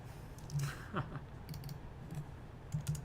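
A few light keystrokes on a computer keyboard as a value is entered in graphic software, scattered clicks in small clusters over a quiet room background.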